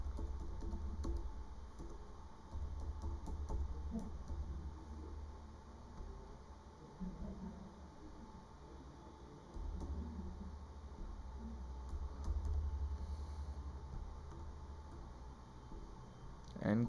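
Card details being typed on a computer keyboard, with soft, quiet keystrokes in irregular bursts over a low steady hum; no voices.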